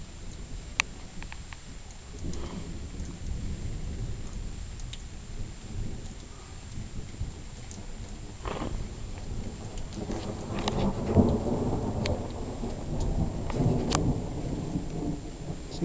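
Rain falls steadily on surfaces as low thunder rumbles and builds, growing louder toward the end, with scattered drips and taps near the microphone.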